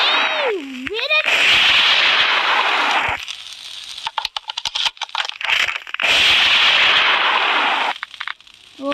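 Fireworks bursting in the video game Fireworks Mania, with a whistling launch, then long loud crackling explosions in two big waves separated by scattered pops, alone without talk.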